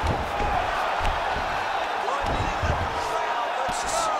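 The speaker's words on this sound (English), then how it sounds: "Oh, huge pop from the crowd as the fighters get back up to their feet." Crowd roar from a UFC 5 video game fight as the fighters get back to their feet, a dense steady cheer filling the whole moment with scattered thuds and shouts over it.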